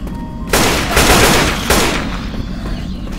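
An AK rifle fires in the video game Left 4 Dead 2: loud, rapid automatic bursts that start after a brief pause, with a short break between bursts and a lingering echoing tail.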